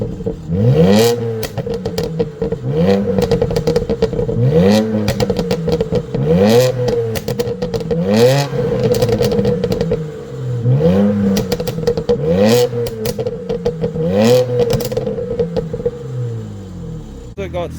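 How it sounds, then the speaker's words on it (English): Twin-turbo N54 engine in a 2007 BMW 335i M Sport revving in repeated throttle blips, each rising and falling in a steady rhythm, loud and close with some mechanical clatter. "We're going to give it some flips of the throttle."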